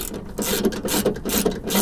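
A hand ratchet clicks rapidly while removing bolts from a Honda Accord window regulator, a close, continuous run of sharp pawl clicks in quick rhythmic bursts.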